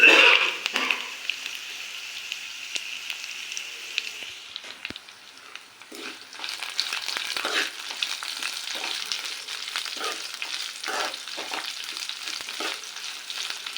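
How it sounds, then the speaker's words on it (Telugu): Garlic and dried red chillies fry in hot oil, a faint hiss at first, then a busier, crackling sizzle with scattered pops that continues steadily. "మనం ఎండుమిర్చి త్వరగా వేగిపోతుంది అందుకని లాస్ట్లోనే వేసుకోవాలి వెల్లుల్లి వేసుకుందాం"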